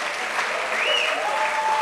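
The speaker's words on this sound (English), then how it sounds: "Let's give a good clap to these good ones." Audience applause for children at a church gathering, a brief, steady burst of many hands clapping together at moderate loudness, with faint whistle-like tones above it.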